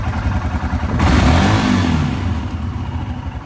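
A Royal Enfield Himalayan motorcycle fitted with a throttle lock and 1-inch bar risers revs its single engine nearby, swelling to a louder rise around the middle before settling back to a steady rumbling idle.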